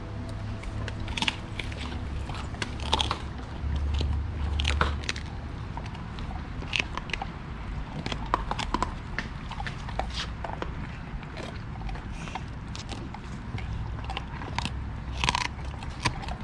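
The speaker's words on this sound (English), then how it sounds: "those 6-month-old teeth have no problem chewing through those ribs" A six-month-old dog gnaws through raw ribs, giving steady close crunching and biting with irregular sharp bone cracks throughout, with no voices.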